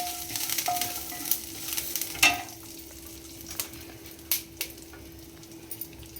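Garlic cloves sizzle softly in hot oil in a pan for a seasonal chutney, with occasional sharp clinks and stirring scrapes of a utensil against the pan.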